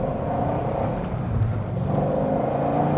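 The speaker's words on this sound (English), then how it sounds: "I wanted a really great sounding car." A C6 Corvette Z06 V8 sports car engine runs loud and steady, rumbling with a slight rising rev and no voices, close and continuous throughout.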